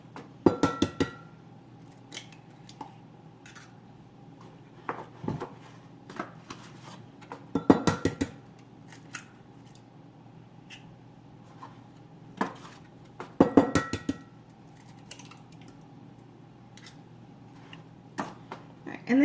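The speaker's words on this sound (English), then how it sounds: "I just mix that all together in a measuring cup." Almond milk and three eggs being mixed in a measuring cup, giving scattered bursts of clinking and tapping against the cup between quieter stretches.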